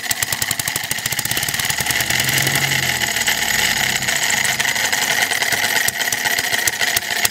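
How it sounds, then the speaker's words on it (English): A small vertical single-cylinder model engine with a Super Tigre carburetor idles with a fast, buzzy, rattling putter, loud and close, holding a steady rhythm throughout. "I've got it idling right now"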